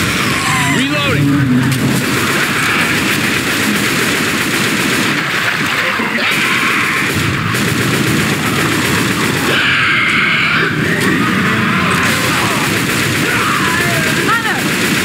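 Constant gunfire and shooting from the Left 4 Dead 2 game fill the scene in a loud, dense barrage, with bursts of automatic fire layered over game noise and voices talking throughout.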